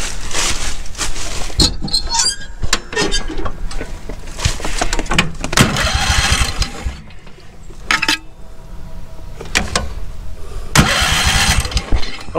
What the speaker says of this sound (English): You plug that into the spark plug wire and we're going to turn it over